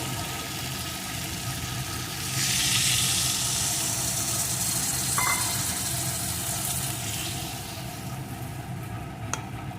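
Cauliflower stalks sizzle in a pan, then water poured in partway through raises a louder, hissing surge that settles back into a simmering crackle, with a faint clink of a utensil.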